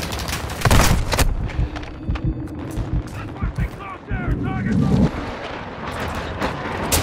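Gunfire in the Modern Warfare 2 video game: dense bursts of automatic fire and heavy booms rising and falling, with pauses between volleys and a loud cluster near the middle.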